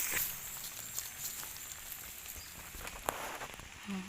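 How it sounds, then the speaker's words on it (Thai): Rain falls steadily as a soft, even hiss, with scattered drops and small taps striking nearby surfaces. "ฝนตกใส่มา"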